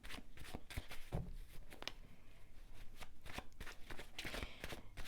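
Tarot cards being shuffled repeatedly, a run of crisp riffling and slapping bursts with brief pauses between them, close and fairly quiet with no talking.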